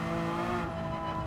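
Porsche 911 GT3 R (992) 2022 race car in Gran Turismo 7, its engine holding a loud, steady high-rev drone with dense harmonics, close and continuous with no talk.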